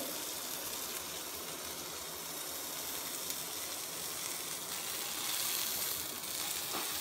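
Chicken tikka pieces sizzle on a hot sizzler plate for a homemade tandoori sizzler, a steady, close, broadband hiss that holds at an even level throughout, growing slightly louder toward the end, with no talking.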